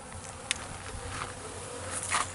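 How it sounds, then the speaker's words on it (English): Honey bees buzz around hive feeders at a backyard hive in winter, making a steady, moderately loud hum that is broken by a few brief sharper sounds, with no one talking. "We are showing a good amount of bee feeding right this minute."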